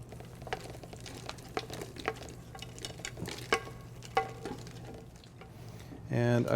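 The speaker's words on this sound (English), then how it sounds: "I want to kind of push and stir so that I extract all the liquid here" Lobster stock being pushed and stirred through a chinois strainer, heard as soft, irregular scraping and tapping with liquid patter over a low hum, ending in a louder clatter.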